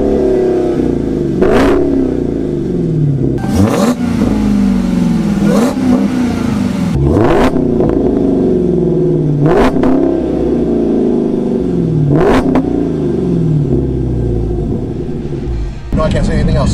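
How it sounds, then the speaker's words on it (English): A Dodge Challenger Hellcat V8 engine revs loudly in repeated bursts, each sharp throttle blip followed by a falling, rumbling settle, about six cycles in a row, with voices talking underneath. "I can roll some video now of the Hellcat"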